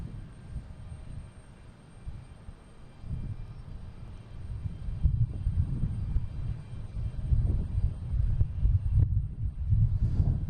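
JetBlue Airbus A321neo arriving from Dublin at Boston Logan, a steady low jet rumble that grows louder and nearer through the clip, no talking.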